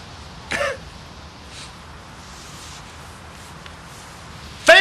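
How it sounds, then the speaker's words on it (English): A man clears his throat in two short, rough bursts, one early and one at the very end, with a quiet stretch of room noise between them and no talking. "I was just clearing my throat."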